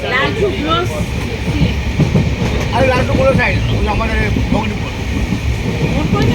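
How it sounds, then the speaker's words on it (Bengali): A passenger train running at full speed, with a loud, close, continuous rumble and rattle of wheels and carriages, some rhythmic clacking and people talking over it. "ট্রেন খুব স্পিডে চলছে একদম"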